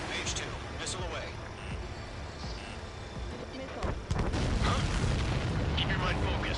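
In a combat video game, a missile launches and explodes, heard as a rushing whoosh and mechanical clatter that build into a heavy booming blast about four seconds in, with voices talking over it.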